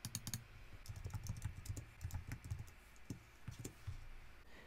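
Steady, soft typing on a computer keyboard, a quick run of close, light key clicks with brief pauses, no voices.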